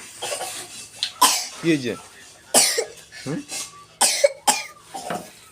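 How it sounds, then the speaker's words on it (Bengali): A girl coughs in a series of sharp, close bursts spread across several seconds, with people talking in between and around the coughs. "খুব কাশি হয়েছে রে মেয়েটার"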